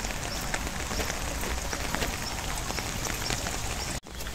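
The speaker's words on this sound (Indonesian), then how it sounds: "Seharian hujan, tadi deras hujannya, ini udah agak berhenti sih" Steady rain falling and pattering on surfaces during a wet, cold rainy-season day, a constant soft hiss with faint drops, cutting off abruptly near the end.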